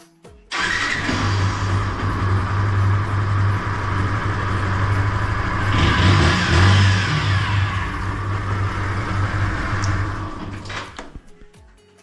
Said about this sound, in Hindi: तो आज चलेगी एक डेढ़ हफ्ते बाद बाइक